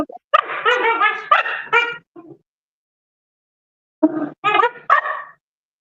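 Dogs bark in two bursts of several sharp, harmonic barks, a long silent pause between them; close and fairly loud, no talking.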